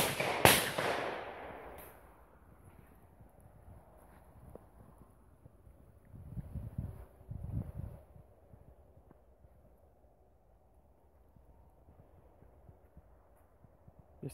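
A shotgun fires once at a shooting range about ten metres away, a single sharp, loud blast with a fading tail, followed by quiet wind noise and faint distant sounds.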